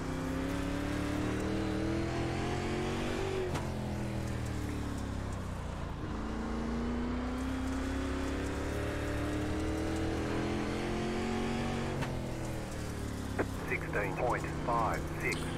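Pro dirt late model race cars lap Cedar Lake Speedway in the iRacing sim, their engines a loud, unbroken roar whose pitch rises and falls through the whole stretch.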